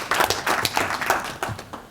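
Short burst of audience applause at a stakeholder report presentation, a loose patter of claps from a modest crowd, steady and fairly close.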